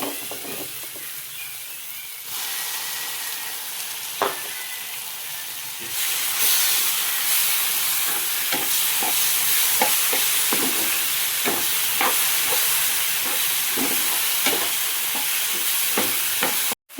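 Paneer butter masala gravy hits a hot pan and sizzles loudly and steadily, a broad hissing fry that swells louder partway through, with scattered ticks and stirring clatter over it.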